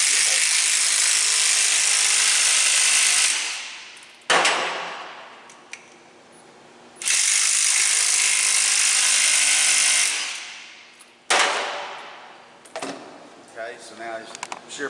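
Power tool shooting down a shear bolt connector on a 35 kV T-body, running in three sustained high-pitched bursts of a few seconds each, separated by sharp clanks and quiet gaps, close and fairly loud.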